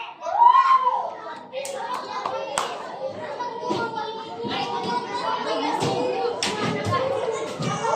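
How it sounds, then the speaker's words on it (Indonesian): A class applauds group 2 in a school lesson, scattered clapping mixed with children's chatter and thumps, moderately loud and close. "Tepuk tangan"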